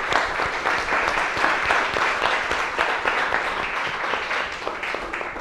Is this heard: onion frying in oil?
no